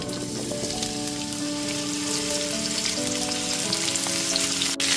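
Long-cut raw mango pieces dropped into hot oil with a fried tempering for a sweet-sour pickle, producing a dense, even crackling sizzle close by, with a faint steady hum underneath.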